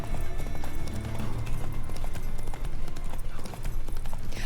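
The horse Roach gallops in The Witcher 3, with steady, rapid hoofbeats that continue without a break beneath a constant, loud wash of game ambience.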